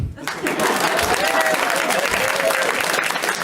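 A stand-up comedy club audience breaks into steady, loud applause with some cheering, sustained for several seconds.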